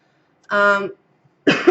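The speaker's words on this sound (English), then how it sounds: "I'm getting over a cold, so I might be coughing in this video." Two short, harsh coughs from someone getting over a cold, separated by a brief pause, close and fairly loud in a quiet room.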